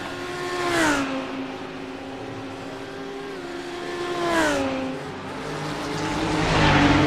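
GT3 race car engines in a racing game wail at high revs, pitch climbing and dropping through gear changes as cars sweep past on the final lap, loud and close with no talk.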